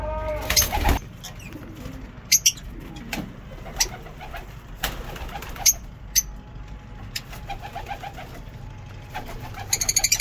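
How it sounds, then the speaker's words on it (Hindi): Many lovebirds are kept together in a cage at a mini zoo, producing scattered sharp chirps and calls with some soft cooing and rustling, close by, over a low background hum. "आप देख सकते हैं हमारा मिनी जू में लवबर्ड्स, काफ़ी सारे परिंदे केज के अंदर।"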